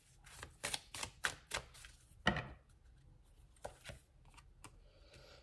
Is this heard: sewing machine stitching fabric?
no